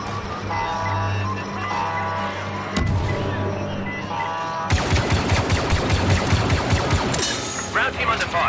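Blaster fire in a Star Wars Battlefront II galactic assault on Geonosis: a low engine hum shifts into a rapid, dense barrage of repeated shots and booms, loud and continuous through the final seconds.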